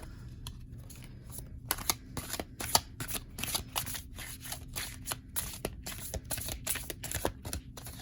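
Tarot cards are shuffled close up, a quick run of crisp riffling and flicking taps that continues steadily for several seconds.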